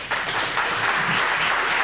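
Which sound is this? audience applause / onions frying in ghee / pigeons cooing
audience applause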